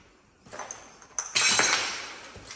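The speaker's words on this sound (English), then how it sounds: "So much broken glass." Broken glass crunching and clinking underfoot in an abandoned 1968 mid-century modern house, a series of sharp scrapes and tinkles building into a louder gritty crunch, close and with no talk.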